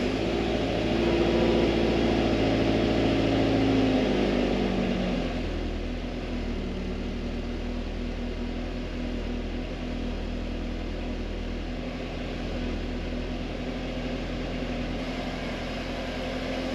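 A Subaru Impreza 22B turbocharged engine runs at a steady idle, a loud continuous drone that eases slightly lower after a few seconds and then holds even, heard without talking.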